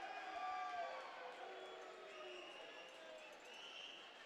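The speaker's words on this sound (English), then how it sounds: "And you hear fans cheering" Hockey crowd cheering and calling out in an arena, a broad sustained roar with rising shouts and whoops, steady at moderate distance throughout.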